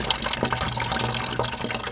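Water pours through a pipe into a container, a steady gushing, splashing fill with bubbly churning close by, continuous and fairly loud with no voices.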